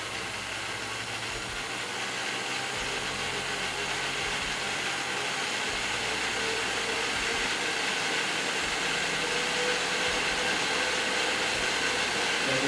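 A stand mixer runs at medium-high speed while beating cake batter, a steady whirring hum that holds constant and fairly quiet throughout with no talking.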